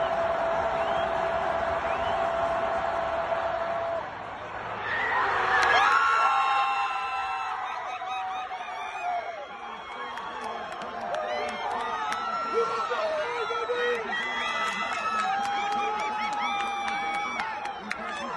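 Stadium crowd at Arrowhead Stadium after the Bengals beat the Chiefs in the AFC Championship, a steady roar of many voices with shouts and whoops that swell briefly, then lively chatter and cheering continue throughout.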